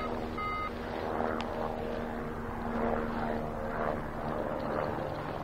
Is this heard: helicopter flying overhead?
yes